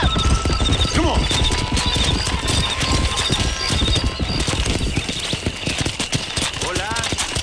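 Horse hooves clip-clop in a fast, steady rhythm while riding in the video game Red Dead Redemption, close and continuous, with voices talking over parts of it.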